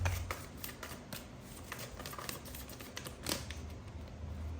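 Tarot cards being shuffled by hand, a quiet run of soft, papery riffling flicks and taps, with a brief louder burst partway through and no talk over it.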